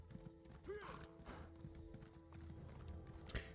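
Horse hooves clip-clop as a mount moves in the online role-playing game Elder Scrolls Online, light and steady beneath game music and a whinny, with no talk.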